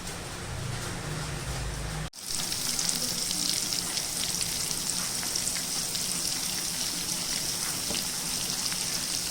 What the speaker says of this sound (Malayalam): അപ്പോൾ നമ്മുടെ കൊഞ്ച് എണ്ണയിലിട്ട് ഫ്രൈ ചെയ്യുന്നുണ്ട്